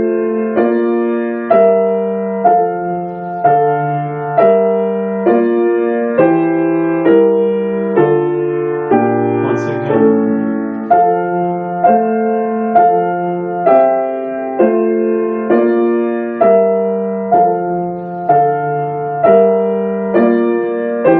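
A three-voice sight-reading exercise for piano grades 5 and 6, soprano and alto in the right hand over a bass line in the left, played on keyboard as steady chords in an even rhythm, clear and close with no talking.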